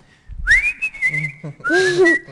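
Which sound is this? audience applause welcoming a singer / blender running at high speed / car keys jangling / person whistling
person whistling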